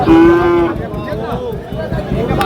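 A Sahiwal bull calf at a busy cattle market gives a loud, drawn-out moo up close, followed by a steady murmur of crowd noise and livestock sounds.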